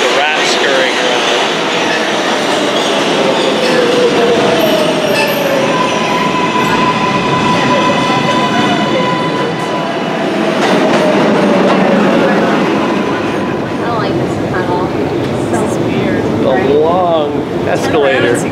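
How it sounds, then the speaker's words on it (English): A Manhattan subway train rumbles loudly past, wheels screeching and rails clattering in a continuous roar, with voices faintly underneath. "I was like coming over here when the train goes by"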